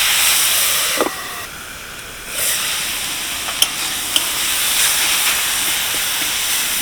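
Carrots and beetroot steam in a covered pan, giving a continuous close hiss with a few light clinks and a short dip partway through.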